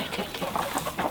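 Hens cluck in a quick, busy series of short calls close by in a farmyard, steady and moderately loud throughout the brief moment.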